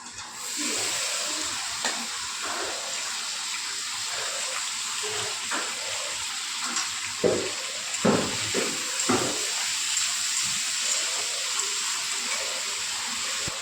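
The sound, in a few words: frying potatoes with tomato, capsicum and green chili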